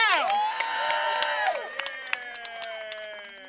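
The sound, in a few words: rally crowd applauding and cheering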